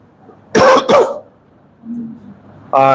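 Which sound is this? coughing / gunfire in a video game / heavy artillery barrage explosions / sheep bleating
coughing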